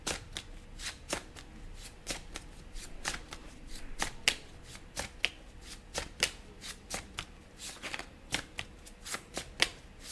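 Tarot cards being shuffled in a pick-a-card reading: a steady run of crisp riffling snaps and flutters, close and fairly quiet, repeating for several seconds with no talking.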